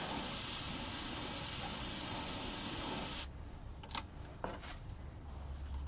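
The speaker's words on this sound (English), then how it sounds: "Spray in the middle just to get the colour going." A long, steady hiss of spray paint onto a turned beech wood bowl fills the first few seconds, then cuts off, leaving a few light taps and clicks.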